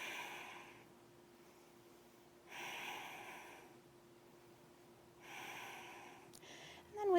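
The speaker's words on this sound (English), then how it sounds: "Breathing." Slow, steady breaths during a yoga session, three soft, breathy swells spaced a few seconds apart in a quiet room, ending with a brief rustle.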